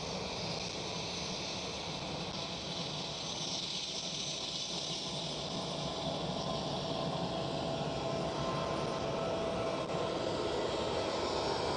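An SAS airliner rotates and climbs away on takeoff at Amsterdam Schiphol Airport, its jet engines making a sustained broad roar with hiss, steady and moderately distant throughout.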